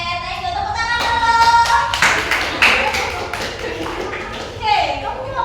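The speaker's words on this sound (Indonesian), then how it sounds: "Tepuk tangan dulu." A classroom of students clapping hands, a burst of irregular claps with some taps and thumps, fairly close, while voices talk over it.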